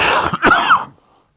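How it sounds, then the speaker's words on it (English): A man coughs and clears his throat, a few harsh rasping hacks close up and loud, ending in a brief throaty rattle before silence. "started kind of coughing and hacking up"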